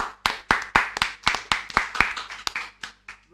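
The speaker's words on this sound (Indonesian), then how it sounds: "tepuk tangan dulu dong." A group claps hands together in a loose, uneven rhythm, sharp individual claps close by, loud and dry, stopping briefly near the end, with no speech.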